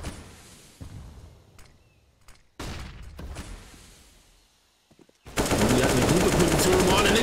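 Counter-Strike gunfire on de_inferno: scattered single shots and short bursts echo at first, then sustained loud automatic fire erupts near the end, with a commentator talking over parts of it.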